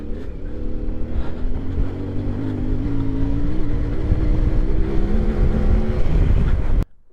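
A CFMOTO Ibex 450 adventure motorcycle rides at speed, its steady engine drone buried in heavy wind roar. The sound holds loud and constant, then cuts off abruptly near the end.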